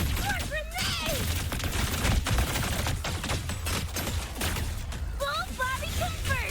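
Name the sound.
grenades exploding in video game Wuthering Waves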